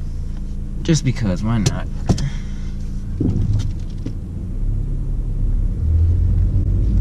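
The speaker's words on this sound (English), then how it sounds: "we're gonna go on a drive just around the neighborhood" A Nissan Sentra with suspected ball joint or wheel bearing trouble rolls through a neighborhood, its low engine rumble steady throughout while someone talks over it.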